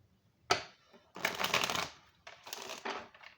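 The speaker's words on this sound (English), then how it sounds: "Let me get a good shuffle on it." A deck of cards being shuffled in several quick riffle bursts with short gaps between them, close and crisp.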